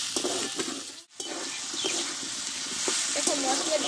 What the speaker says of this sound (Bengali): দুই থেকে 3 মিনিট মতো মশলাটা দিয়ে আমি একটু কষে নেব।